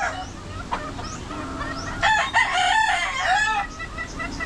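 Roosters crow with chickens clucking around them at dawn, before six in the morning during Typhoon Tino, several long wavering crows rising over steady rain-like background noise, fairly close and loud.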